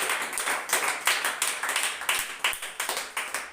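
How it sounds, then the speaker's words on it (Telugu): A church congregation at Sunday worship claps in praise, a loud, close, rhythmic clapping with an even beat of roughly three claps per second that carries on throughout. "చప్పట్లు కొట్టి ప్రభుని గారు."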